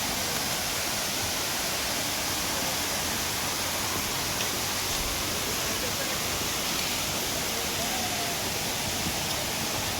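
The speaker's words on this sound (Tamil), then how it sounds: "இங்கே வாட்டரோட ஃப்ளோ கொஞ்சம் அதிகமாகவே இருக்குது" Fast-flowing stream at a trekking water crossing on the Agasthiyar Koodam trail, a dense, steady rushing wash of water that stays close and constant throughout.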